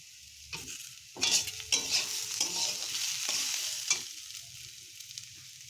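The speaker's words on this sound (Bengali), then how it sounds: "এবার আমরা এতে দিয়ে দেবো টমেটো কুচি।" Steady sizzling of chopped tomato frying with onions in a pan, broken by several scraping stirs of a spoon, with no talking.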